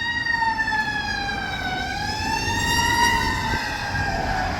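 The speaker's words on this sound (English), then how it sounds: "There's the sirens." A loud fire truck siren wails close by, its sweeping tones bending in pitch as the vehicle passes, over a rumbling road-traffic bed with no voices.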